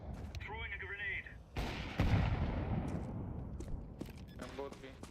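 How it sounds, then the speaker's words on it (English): A grenade thrown in Counter-Strike 2 sets off a loud burst of gunfire and explosive rumble, with voices talking before and after. "Throwing a grenade."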